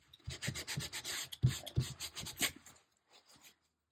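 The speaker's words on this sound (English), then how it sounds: "I'm just using a damp rag to pick up some of that dust from sanding." A damp rag wipes sanding dust off a wooden surface in a series of soft, close rubbing strokes with an uneven rhythm, fading out to a few faint touches.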